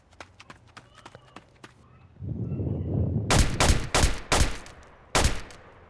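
Rifle shots in a video game set in the South Bronx crack out loud and close, about five spaced blasts in the second half, after softer rhythmic clatter and a rising rumble.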